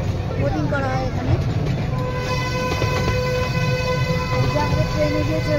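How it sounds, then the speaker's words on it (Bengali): A small park ride train rolls steadily along a bridge over a boating pond, with a continuous low rumble and sustained horn-like tonal whistles, people talking over it. "ট্রেন এগিয়ে চলেছে"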